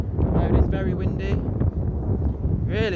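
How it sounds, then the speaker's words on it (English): Strong wind buffets the microphone on a public footpath by a field on a windy day, a continuous loud low rumble with gusty swells and brief voice-like sounds mixed in. "Now it is very windy."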